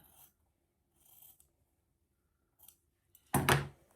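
Scissors cut along the edge of quilt fabric, stopping just short of a sewn corner seam: one short, fairly loud, close crunchy snip near the end, after several faint scattered rustles.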